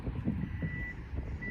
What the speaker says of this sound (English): Parking sensors along the vehicle.